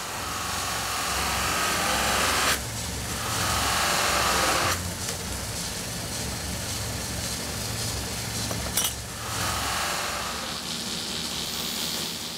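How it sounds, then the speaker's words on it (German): A razor blade is polished on a spinning leather wheel, giving a steady whirring hiss with a running motor underneath, easing briefly and then resuming. "Das Blau- oder Klarpliesten auf der Lederscheibe gibt der Klinge eine noch feinere Politur."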